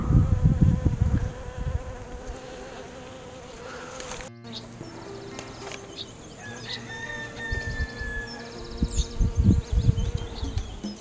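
Bees buzz and hum close by among snowdrops in early spring, rising and falling in loudness, with a few brief higher droning passes and a short gap midway.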